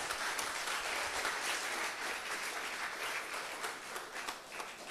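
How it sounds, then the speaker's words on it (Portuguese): Dense, sustained applause from a church congregation greeting a brother called forward, steady and loud throughout without pause. "Aplauso para ele."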